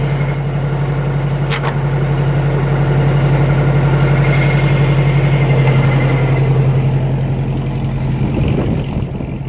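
A 2010 John Deere tractor engine idles steadily with the power takeoff engaged, a constant close low hum with a slight rise in intensity midway and no talking.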